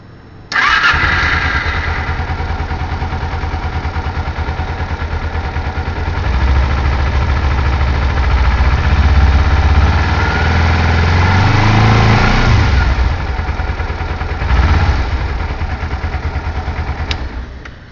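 A Kawasaki EX250R sport bike engine cranks and catches, then settles into a steady, loud idle with a few brief rises in revs, close by and with no talking.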